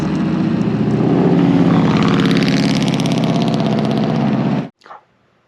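A TORP TC500 motorcycle drones loudly and steadily while being ridden, with a faint odd noise in its sound, before it cuts off abruptly near the end and leaves a brief thump.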